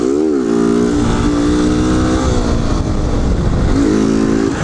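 Motorcycle engine held high while riding a curve on a wheelie, a loud, close, continuous drone that sags slightly mid-ride and climbs again at the end, with no talking.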